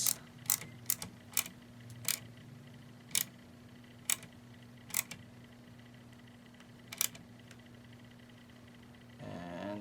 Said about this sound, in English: we're going to install our 8/32 by 5/16 Allen. And we're just going to give it a small little snug